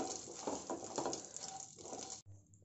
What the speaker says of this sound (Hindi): बादाम, काजू और पिस्ते, और कुछ सेकंड बस मैं इनको फ्राई करके निकाल लूँगी